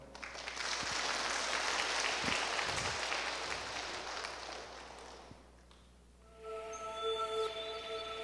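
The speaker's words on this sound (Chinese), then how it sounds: "我们给他掌声好吗？" Audience applause during a Buddhist dharma lecture at a temple hall in Yilan, a dense wash of clapping that swells and then thins out, fading to near quiet before a faint tonal sound rises near the end.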